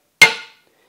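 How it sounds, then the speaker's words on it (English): A hammer taps a clip onto an axle shaft u-joint on a Ford Super Duty: one sharp, close metallic strike that rings briefly and fades, with nothing else around it. "sometimes you got to use a hammer"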